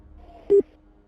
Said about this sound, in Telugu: తల్లిదండ్రులు ఫోన్ చేస్తే ఫోన్ కనెక్ట్ కాలేదు.